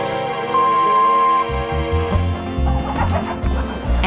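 A hen clucks in a steady, close, repeated rhythm over a loud, busy musical backing, with no speech.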